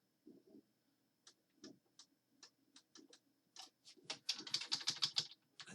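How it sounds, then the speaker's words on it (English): Close, quiet keystrokes on a computer keyboard entering a calculation, isolated taps at an irregular pace building into a fast burst of typing at the end. "I'll pull up another window and I'll show you how I type it in."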